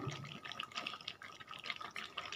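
Hot water poured into a pan of village-style chicken curry, a steady close splashing and trickling of liquid that carries on evenly without any talk.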